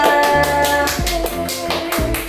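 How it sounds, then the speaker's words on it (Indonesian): Classroom students clap for Amalia, a quick run of rhythmic, evenly spaced claps over a steady sustained tone, close and fairly loud. "tepuk tangan untuk Amalia"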